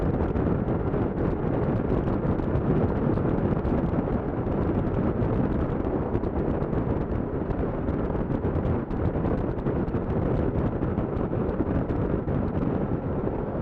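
Wind buffeting on a 2016 Kawasaki Versys 1000 LT ridden at speed, a loud, continuous roaring rush that stays constant throughout with no speech.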